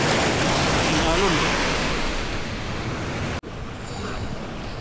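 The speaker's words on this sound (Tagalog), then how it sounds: "Alon." Ocean waves washing in at a shoreline fishing spot, a loud, rushing surf roar mixed with wind buffeting the microphone, broken by a brief cut before the wash resumes.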